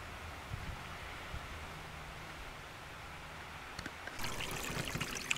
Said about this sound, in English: it's nothing but a trickle in it today